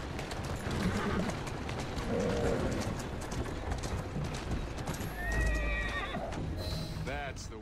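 Horse hooves clip-clop steadily with a whinny in an Assassin's Creed Syndicate video game street scene, mixed with mechanical clatter, under a voice speaking.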